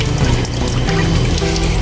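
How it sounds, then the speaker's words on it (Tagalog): Water pours into a cooking pot of simple vegetable dish, a loud, close, continuous splashing gush lasting under two seconds with no talk. "Ayan, 2 tasa na po ang ating tubig na nilagay."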